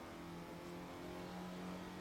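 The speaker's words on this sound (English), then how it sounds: "listen to that Lada engine singing away" Lada race car in Assetto Corsa, engine droning steadily at high revs throughout, a continuous tonal hum that rises slightly toward the end, alone with no talk.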